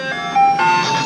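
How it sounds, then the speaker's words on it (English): An ice cream truck plays a bright, looping chime melody as it rolls by outside. The tune is clear and fairly loud, with faint road noise underneath and no talk. "there's the ice cream truck."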